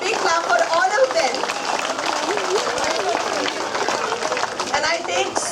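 An audience claps at an Independence Day school event at Ankur Vidya Mandir, producing dense, continuous applause mixed with crowd chatter and voices throughout.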